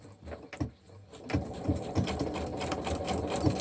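Sewing machine stitching a fabric face mask seam, with a couple of short starts, then a faint, rapid needle rhythm that runs steadily, a little reverse stitching included.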